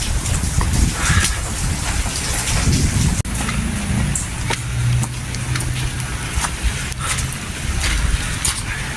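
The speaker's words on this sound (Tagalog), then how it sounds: "Ayaw tumigil yung ulan." Heavy rain pours steadily onto surfaces at a resort during a typhoon, a dense continuous hiss with a sharp thunder crack and low rumbles rolling in the background.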